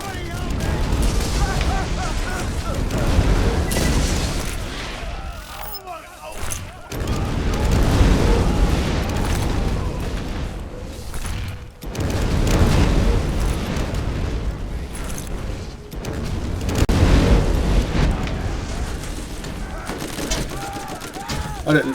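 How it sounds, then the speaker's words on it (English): Incendiary bouncing Betty mines in a video game burst in a long run of loud, overlapping blasts and gunfire-like crackle, arriving in heavy waves separated by brief lulls. "Incendiary bouncing Betty."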